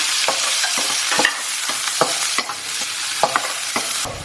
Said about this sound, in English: it's time for my chilies to go in, ginger and the garlic. And I'm going to stir this till it releases its aroma.